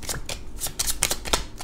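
Tarot and Lenormand cards being shuffled and laid out on a table, with a quick series of crisp riffling slaps and flicks close to the listener.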